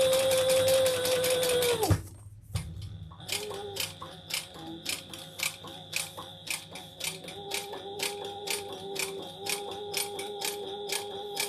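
A sewing machine stitches around the outside edge of a handmade Laverna crossbody bag. A steady run of fast, even mechanical clatter is briefly cut by a pause, then restarts in short repeated bursts with a rhythmic whir.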